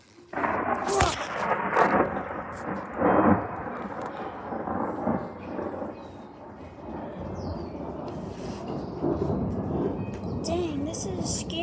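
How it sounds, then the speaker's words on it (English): Thunderstorm with rain falling, deep thunder rumbles and sharp cracks standing out early and then a steady wash of rain and rumbling, with a voice speaking over it. "It's raining again."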